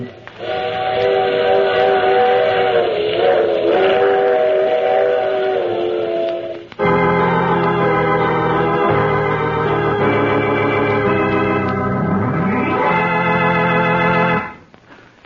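A steam train whistle used as a radio drama sound effect blows in long, loud chord-like blasts, one held for several seconds and then another sustained blast that bends in pitch, over a steady hiss of steam.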